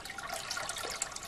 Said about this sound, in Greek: Θα βάλουμε 1 λίτρο νερό